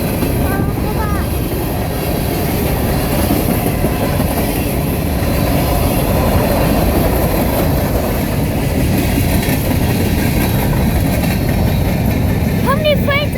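Union Pacific freight train with four locomotives and 79 cars, some carrying oil, passing in Chatsworth, California. A loud, continuous rumble of wheels on rails comes close throughout, with brief wheel squeals near the start and end. People talk over it.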